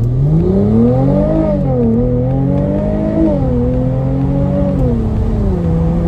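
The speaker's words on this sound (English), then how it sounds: "hopefully you can hear the acceleration, what we're going to have when it goes green" A loud Mercedes SL400 engine drones steadily up close as the sports car accelerates from a standstill, its pitch swelling and dipping slightly as it pulls, with no voices.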